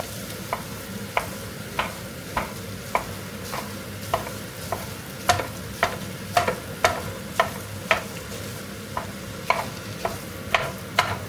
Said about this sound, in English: That is my meat masher. I bought this specifically for the job, so I'm going to use it.